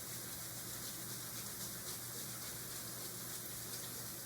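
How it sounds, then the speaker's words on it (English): Running water rinses soap off canvas sneakers, a steady close gushing stream with no pauses. "And then you can rinse off all that soap."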